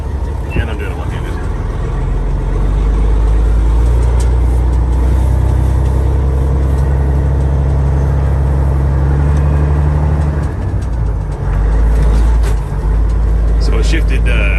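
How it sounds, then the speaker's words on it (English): A 2006 Peterbilt 379 truck drives with a loud, steady diesel rumble that dips briefly as it shifts gears, heard from inside the cab with a voice speaking over it. "So it shifted good from first to second."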